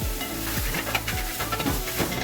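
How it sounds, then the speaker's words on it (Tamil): Cut raw banana pieces stirred in a frying pan, with a steady sizzle under repeated scraping strokes of a spoon, close and fairly loud. "அதே வாட விட்ட பிறகு நம்ம வெட்டி வச்சுருக்க வாழைக்காய் அதை ஆட் பண்ணணும். நல்லா கிண்டி விடணும்."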